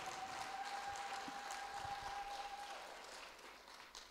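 A church congregation applauds and cheers in praise, a steady broad wash of clapping that holds for several seconds before easing slightly, with a sustained tone running beneath it.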